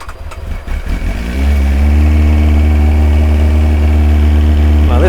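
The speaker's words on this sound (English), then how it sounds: "turn the bike on, let her run for a few minutes" A Kawasaki ZX-9R sport motorcycle engine starts up and settles into a steady, loud idle close by, with a deep continuous drone that holds evenly to the end.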